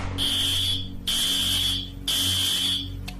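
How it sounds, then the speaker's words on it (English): A school fire alarm, set off by gunfire smoke, sounds three long loud piercing electronic tones with short gaps between them, with no voices. "The smoke from the gunfire triggered the fire alarm"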